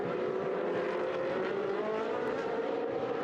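A race car roars at close range around the Paul Ricard circuit during a Pirelli trophy race. A steady, loud engine drone holds throughout with no break, and no voices can be heard over it.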